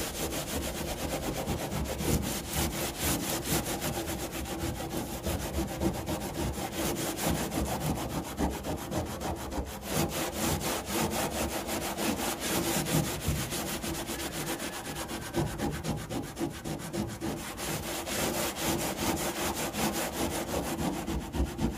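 Steady, continuous rubbing and abrading as old paint is worked off the surface of an old truck during a patina-preserving restoration, a dense scratchy texture running unbroken and close, with no talk.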